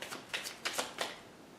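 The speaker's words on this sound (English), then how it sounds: "your cards are done shuffling" Tarot cards being shuffled up close, three or four quick crisp riffling bursts in a short run, fairly quiet with no voices.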